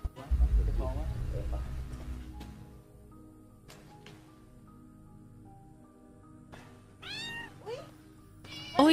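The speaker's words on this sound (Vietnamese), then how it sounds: "Ôi, ở đây có mèo nè." A cat meows in an abandoned building from a 2016 Thai horror film, rising, wavering cries near the end after a stretch of quiet, with voices and low rumble earlier in the scene.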